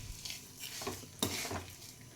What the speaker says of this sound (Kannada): ಇದನ್ನು ಈಗ ಮಿಕ್ಸ್ ಮಾಡ್ತಾ ಇದ್ದೀನಿ